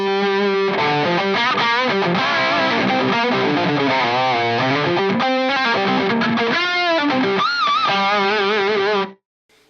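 An electric guitar runs through an Axe-Fx III with a mid-boosted, level-boosted solo tone that cuts bass and extreme highs, playing a loud, distorted, sustained lead line with bends and vibrato for about nine seconds before cutting off abruptly.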